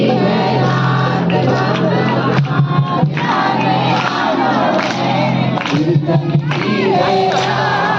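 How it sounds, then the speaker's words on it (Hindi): A large crowd of devotees at the Khatu Shyam temple, a loud continuous din of many voices shouting and chanting together, with a steady hum running underneath. "ये भीड़ जो इतनी आ रही है"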